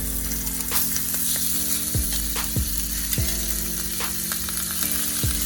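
Seasoned chicken sizzles steadily in a hot pan as it sautés seasoned side down, a continuous frying hiss with faint ticking clicks from a kitchen device running close by.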